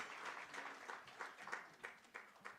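An audience claps at a school teaching and learning festival, a fairly soft, steady patter of many hands with slight rhythmic surges, heard alone without talk.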